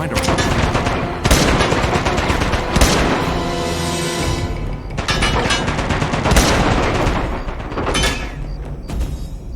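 Rapid gunfire bursts and heavy booms from the PS Vita game Uncharted: Golden Abyss, with loud volleys separated by brief lulls, set against a dense game soundscape.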